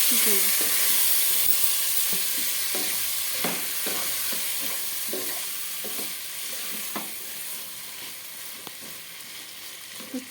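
Chicken fries with ginger garlic paste and salt in a pan, giving a steady sizzle and hiss marked by regular scraping clicks from stirring.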